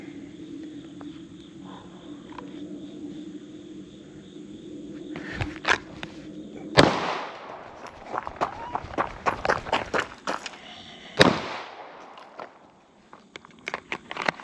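Gunshots at a shooting range: two loud, sharp reports ring out several seconds apart, each followed by a brief decay, with softer clicks and handling noises in between over faint background hum.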